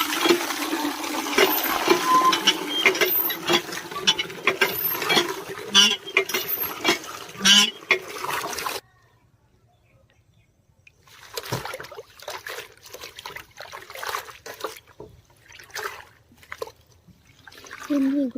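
Tap water runs and splashes in bursts as fresh coriander leaves are rinsed in a kitchen, then stops, leaving quieter trickles, drips and handling noises.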